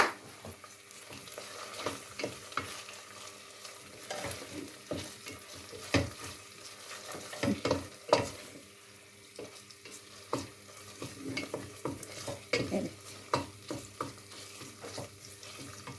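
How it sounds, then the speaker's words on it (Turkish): Cauliflower sautés in a pan with a steady sizzle while a utensil stirs and scrapes it in irregular bursts, some strokes louder and nearer than others, with no talking. "Bir dakika kadar daha beklesin, kavrulsun."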